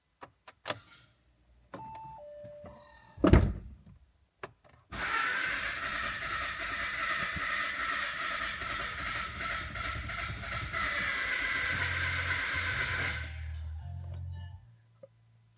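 A 2014 Audi A3 engine with a weak battery cranks briefly, then catches into a rough, steady rumbling run for several seconds before cutting out, with a few clicks and knocks around it.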